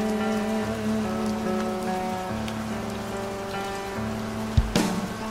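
Rain falls steadily on a car while music plays inside, with a soft continuous patter under the melody and a brief louder knock near the end.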